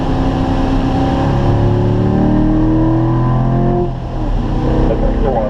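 A Corvette engine runs at full throttle on the Spring Mountain race track, a loud, sustained drone whose pitch climbs steadily before briefly dipping near the end.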